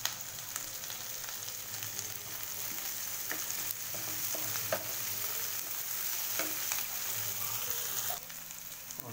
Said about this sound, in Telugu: కొంచెం 1 నిమిషాలు ఉల్లిపాయలు కొంచెం ఫ్రై చేసుకోండి. దీంట్లో మనం కొంచెం పుదీనా వేసుకుందాం